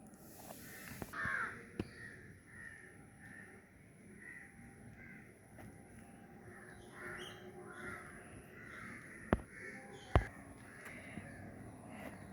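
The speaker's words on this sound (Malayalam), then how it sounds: "വൈകിട്ട് കിളികളുടെ സൗണ്ട്." Crows caw repeatedly in the evening among other birds in the trees, the calls moderately distant over a quiet outdoor background, with a couple of sharp nearby clicks toward the end.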